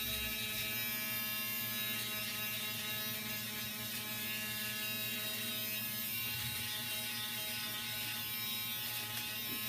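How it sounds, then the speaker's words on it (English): An electric fabric shaver runs continuously across pilled denim, a loud steady buzzing motor whine with a gritty rasp as it cuts the bobbles away. "I'm going to show you what this shaver can do"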